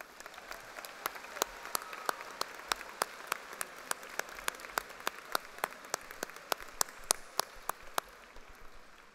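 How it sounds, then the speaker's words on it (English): Scattered, sparse clapping from an audience at a National Science Olympiad opening ceremony, individual sharp claps ringing out at a steady loose rhythm over a quiet room. "let's give them a round of applause as well"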